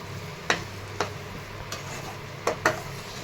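A spoon stirs mango sheera in ghee in a pan, producing a handful of crisp, close scraping taps spaced unevenly over a soft background sizzle.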